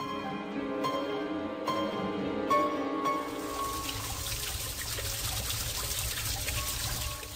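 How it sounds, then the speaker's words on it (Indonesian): Water trickling and babbling steadily with a broad wet hiss that swells after the first few seconds, close and continuous, with no voices. "Hawa dingin dan suara gemericik air terdengar jelas di telinga"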